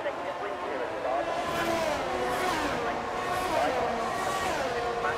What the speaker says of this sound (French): Le tour de formation a débuté et les monoplaces commencent à parcourir les montées et descentes de ce circuit